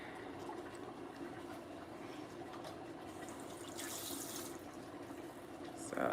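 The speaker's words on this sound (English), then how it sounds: "let's go ahead and add some water" Water is poured into a pot of Liberian beans torbogee soup, a soft continuous splashing trickle heard fairly quietly, with a brief louder splash at the end.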